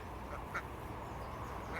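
Ducks in a backyard pen quack a few times, faint and somewhat distant, over a steady background hiss.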